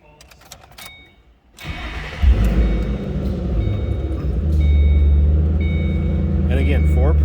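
A 2006 Ford Mustang GT convertible with a 4.6 liter V8 cranks and fires, then settles into a loud, steady, deep idle that swells slightly as it runs, recorded close by.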